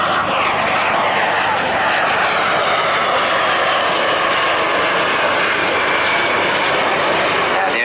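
A propeller aircraft flies at the Bournemouth Air Festival, giving a loud continuous engine drone that fills the whole stretch, with a faint voice beneath it.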